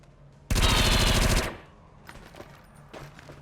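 Alien collectors in the video game XCOM 2 unleash a loud burst of rapid automatic fire lasting about a second, followed by quieter scattered game effects.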